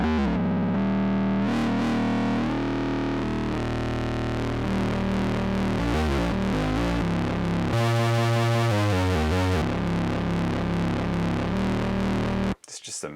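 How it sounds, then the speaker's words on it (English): A Roland SE-02 analog synthesizer played with distortion driven ahead of the filter, producing a thick, buzzy, harmonically dense tone in a steady sequence of notes with shifting timbre, loud and continuous, ending abruptly. "they have a distortion before getting into the filter stage, which is pretty cool because you can create a lot of noise"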